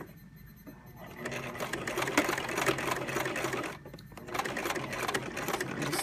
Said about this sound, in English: So I'm just sewing along the edge of the fold.